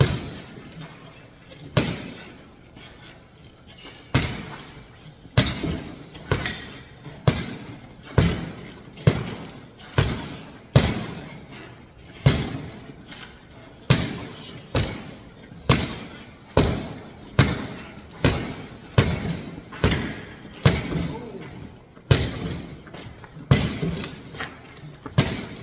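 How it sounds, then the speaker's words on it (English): A flexible weapon repeatedly strikes an object, a steady series of loud, sharp thuds roughly every second, close and punchy, with no talk. "that is how to make contact with something with flexible weapons"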